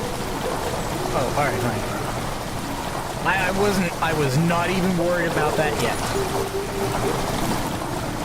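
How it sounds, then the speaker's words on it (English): Steady rushing water pours into a chamber in Amnesia: The Dark Descent, a constant churning wash like heavy rain that continues under someone talking throughout. "Water rushing into this chamber makes a strange sound."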